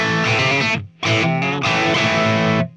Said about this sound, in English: my Marshall JCM800,